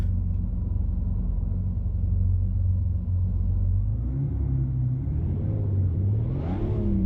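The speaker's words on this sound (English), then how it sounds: "Let me hear the exhaust." A BMW road car's engine in Assetto Corsa rumbles steadily, then revs upward toward the end with a rising, rasping exhaust note, loud and close with no talk.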